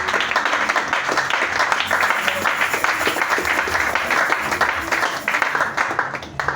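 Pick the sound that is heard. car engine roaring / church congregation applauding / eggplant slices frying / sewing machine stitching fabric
church congregation applauding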